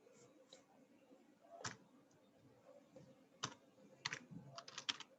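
Fast, uneven key clicks from someone typing code on a computer keyboard, faint and close, bunched into short rapid runs with brief pauses over a low background hum.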